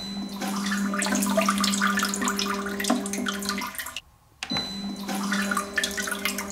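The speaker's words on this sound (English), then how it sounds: "Whenever seat pressure is detected, the nozzles will run through a self-cleaning cycle which lasts about 3 seconds." Bidet nozzles run a self-cleaning cycle on a men's Omigo luxury bidet toilet seat: a steady close water spray that stops briefly with a click, then resumes.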